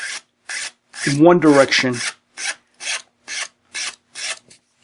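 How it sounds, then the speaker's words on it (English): A file rasps along the edge of a watercolor paper pendant, pushed in one direction only: about eight short, close scraping strokes in a steady rhythm, with a brief spoken phrase partway through. "Notice I'm not filing back and forth like that."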